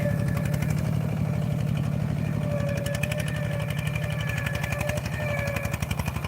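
A two-wheel walking tractor engine runs steadily while plowing rice stubble into a field at Ban Khu Son, Sisaket. It throbs on at a constant idle-like pace throughout, fairly close, with no talk.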